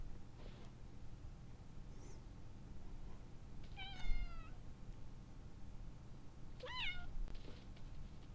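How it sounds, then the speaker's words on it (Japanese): A cat in the game Timelie meows twice, a short call and then a clearer, longer one, over a quiet ambient game soundtrack with no talking. "うん、猫ちゃん。"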